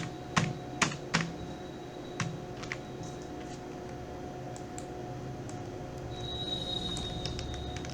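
Code being typed on a computer keyboard, a few sharp close keystrokes at first, then sparse, fainter taps over a steady background hum.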